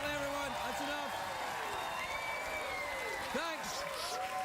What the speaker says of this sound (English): Please, stop your applause and cheering